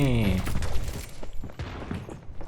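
Cassidy's gun in Overwatch 2 fires in quick bursts of shots, mixed with a voice talking over the game action throughout.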